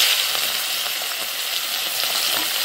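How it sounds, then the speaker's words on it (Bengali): Shrimp frying in a wok give a steady, loud bright sizzle that hisses on without pause, close by and heard alone. "এবার আমি চিংড়ি মাছটা ভেজে নেব।"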